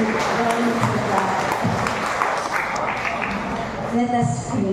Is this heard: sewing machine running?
no